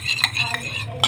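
Utensils scraping and clinking in a pot as a biryani mixture is stirred, several short scrapes over a steady low background hum, close and moderately loud, no talk.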